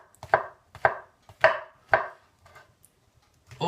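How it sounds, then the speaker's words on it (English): A knife chops mushrooms into small pieces on a cutting board, four firm evenly spaced chops followed by a few lighter taps, close and clear with no talking. "we're just going to randomly chop these up just to make them a little bit smaller"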